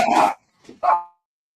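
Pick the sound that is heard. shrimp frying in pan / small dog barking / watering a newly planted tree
small dog barking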